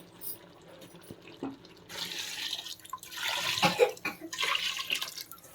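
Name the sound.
water being poured into a pot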